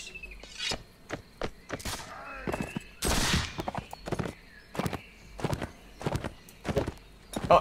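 A horse in the video game Caribbean! clip-clops with rapid hoofbeats mixed with gunfire bursts and a whinny, with a player speaking now and then.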